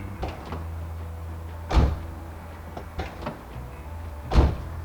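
Door of a restored 40-to-50-year-old convertible being opened and shut, with three solid closing thumps and a few lighter clicks and knocks in a quiet setting.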